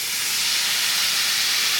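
Heavy whipping cream hits a hot sauté pan with a loud, continuous sizzling hiss that stays close and even for its short length, with no voices.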